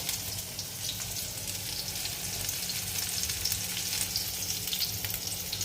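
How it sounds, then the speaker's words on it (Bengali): Pumpkin flowers frying in a pan, a steady crackling hiss of hot oil with fine popping throughout, close and even, no voices. "আমি এখন ভাজছি কুমড়ো ফুলটা"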